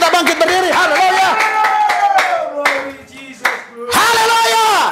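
A church congregation claps and cheers in praise during a worship service. A loud, steady patter of hands runs under a man's strong, sung or shouted voice, briefly dips, then surges again.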